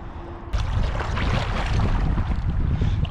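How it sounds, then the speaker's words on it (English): Wind gusts along the Delaware River in the Catskills during fly fishing, a loud, steady rushing roar buffeting the microphone, with water noise underneath and no voices. "Just wish the wind would chill."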